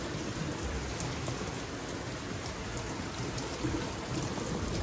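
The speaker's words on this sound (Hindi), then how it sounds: "बहुत तेज़ में जो कि बारिश हो रहा है बाहर" Heavy rain pouring down outdoors in Varanasi, a dense continuous hiss of drops striking surfaces, steady and loud throughout with no voices.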